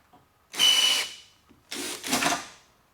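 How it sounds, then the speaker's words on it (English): A Ryobi power drill, used while working on sheet metal for a 1976 Trans Am, runs in two short bursts, a close whirring with a pause between. "Do not buy one of these Ryobi drills."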